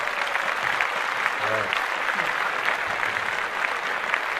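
Steady applause fills the whole stretch, a continuous dense patter of many hands clapping at even loudness, while someone speaks briefly over it.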